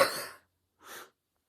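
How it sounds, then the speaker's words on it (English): A person sneezes, a sharp breathy burst followed by a brief silence and a second softer expulsion, close and alone in a quiet room. "I'm going to sneeze again"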